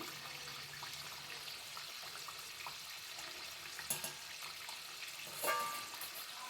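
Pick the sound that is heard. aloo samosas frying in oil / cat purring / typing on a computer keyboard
aloo samosas frying in oil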